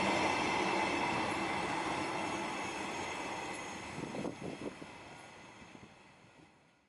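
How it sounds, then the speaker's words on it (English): A freight train of hopper wagons carrying barley rolls past in a northern Christchurch suburb, a steady rumbling roar that fades away, with faint wheel clatter toward the end. "3 of the hopper wagons with barley are seen on a train as it makes its way through the northern suburbs of Christchurch"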